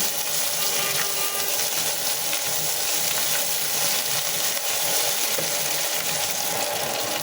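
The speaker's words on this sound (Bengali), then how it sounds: "দিয়ে দিচ্ছি সামান্য একটু আদা রসুন বাটা, সাথে দিয়ে দিচ্ছি লবণ। খুব ভালোভাবে ভেজে নেব।" A steady, loud sizzle of ginger-garlic paste frying in hot oil with salt, an unbroken crackling hiss that holds at the same level throughout.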